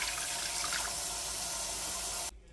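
Water pours in a loud, continuous rush into a soup pot while making chicken tortilla soup, then stops abruptly just before the end.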